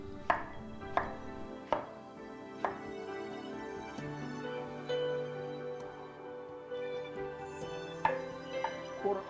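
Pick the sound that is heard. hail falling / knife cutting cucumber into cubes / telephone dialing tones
knife cutting cucumber into cubes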